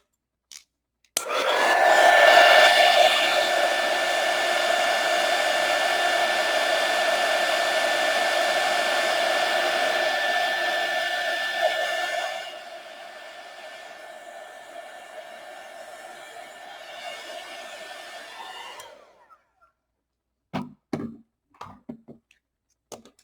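A hair dryer blows steadily and loudly at close range onto a decorated Easter egg for about eighteen seconds, dropping to a lower setting partway through, then clicks off, followed by a few light taps.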